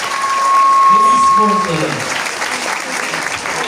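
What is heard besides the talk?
audience applauding the parents' chess group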